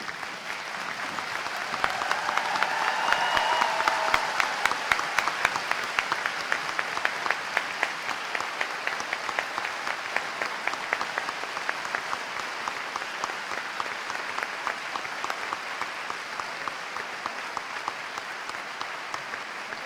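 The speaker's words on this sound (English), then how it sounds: "Thank you for this long applause." Sustained applause from a large audience at a university undergraduate commencement, steady dense clapping that swells early then continues evenly for the full length, with no speech over it.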